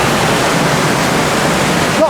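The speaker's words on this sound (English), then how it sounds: "It's actually walking around the back of the waterfall." Sgwd yr Eira waterfall in South Wales, heard from the path behind the falling water: a steady, loud, broadband roar of pouring water that fills the whole stretch without a break.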